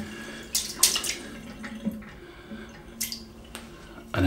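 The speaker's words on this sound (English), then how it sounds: "And then we will wet the brush." Tap water runs and splashes as a shaving brush is wetted, giving faint, intermittent watery gushes and drips close by, with no talking.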